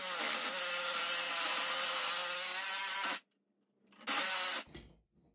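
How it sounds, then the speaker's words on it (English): A reciprocating saw and grinder cut through hollow iron bars of an old bed frame, a loud continuous whining buzz for about three seconds, a short pause, then another brief burst of cutting. "I used a reciprocating saw and a grinder to do this."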